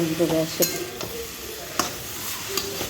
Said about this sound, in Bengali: এটা হচ্ছে ভাজা, চিচিঙা ভাজা, সেটাও বসিয়ে দিয়েছি